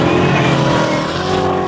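A turbocharged LS V8 engine in a personal watercraft runs loud and close, a steady dense mechanical roar with a sustained high whine on top.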